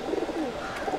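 A pair of pigeons kept as a hobby coo in a short, close, soft burst.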